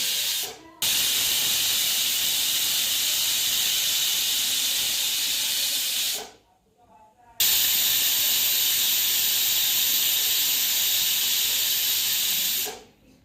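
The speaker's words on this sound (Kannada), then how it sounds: "3 ರಿಂದ 4 ವಿಸಿಲನ್ನು ಕೂಗಿಸಿಕೊಳ್ಳಬೇಕು" A pressure cooker holding beans, lentils, vegetables and water for sambar vents steam in two long, loud, continuous hissing bursts, split by a short quiet gap, with no voices.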